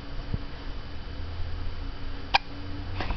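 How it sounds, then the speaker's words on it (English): A young child hiccups: one short sharp hiccup midway, with a fainter second one near the end, against quiet room tone. "he doesn't seem very happy that he has the hiccups"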